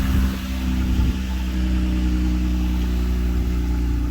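A Jeep Gladiator Mojave engine runs steadily with a deep mid-range hum, with a slight rev early on as the truck moves off, close and continuous with no talk.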